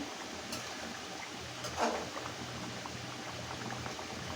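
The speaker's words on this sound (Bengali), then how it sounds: "এভাবে আমি জাল দিয়ে ঝোলটা কমিয়ে নিব।" Pangasius fish curry simmers and bubbles on a stove, a steady soft boiling hiss with faint popping, close and alone without talk.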